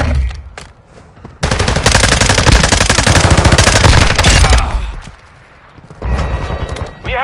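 Gunfire in Call of Duty: Modern Warfare II on PS4: a loud, sustained burst of rapid automatic fire lasting several seconds, then a pause and a shorter second burst.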